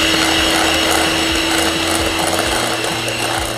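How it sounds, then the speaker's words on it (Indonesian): Electric mixer whipping whipping powder with ice water until stiff, a loud, constant close motor drone with a rattly, gear-like buzz and a steady pitch, with no talking. "Ini akan kita mixer sampai kaku ya."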